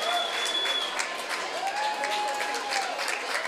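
Stadium crowd at a women's soccer match between Seattle Reign FC and Boston Breakers breaks into steady, broad applause, a dense wash of clapping and cheering that fills the whole stretch without pause.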